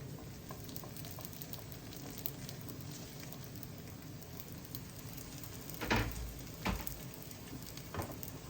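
Dough pieces frying in a little oil in a kazan over low heat, giving a faint, steady sizzle and patter throughout, with a few slightly louder crackles near the end.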